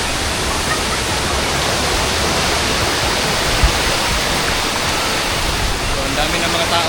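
Mantayupan Falls in Barili, Cebu, a 98-meter waterfall, roars as a steady, loud, dense rush of falling water filling the whole scene without letup.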